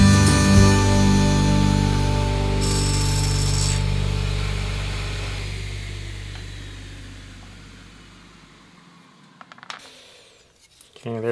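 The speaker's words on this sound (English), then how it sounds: "I'm just going to use the table saw to trim it down." A table saw trims a glued wood piece for a homemade bandsaw blade guide, a loud steady motor whine with cutting noise that gradually spins down and fades, followed by a few faint clicks at the end.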